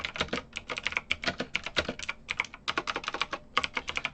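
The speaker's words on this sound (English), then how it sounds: "I've got a mechanical keyboard because I play games. So I'm sorry if it's so loud" Rapid, clacky typing on a mechanical keyboard, close and fairly loud, with bursts of keystrokes separated by brief pauses.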